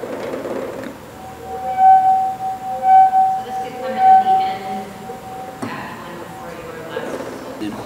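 Bright ringing clinks of a wine glass used as a cue in a collaborative group performance, three sustained pings spaced about a second apart, under soft ongoing voices and background sound.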